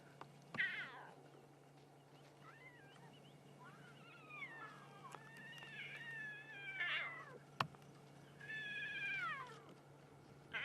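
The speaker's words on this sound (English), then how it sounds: "Sounds like a house cat." Wild animals on a Sabi Sand safari drive yowl and caterwaul like house cats, several drawn-out rising and falling cries close by, angry and repeated over a low vehicle hum.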